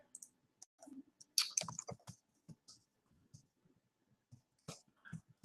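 Keys tapped on a computer keyboard in a room, irregular soft clicks in short bursts with pauses, faint and close, with a few louder clatters mixed in.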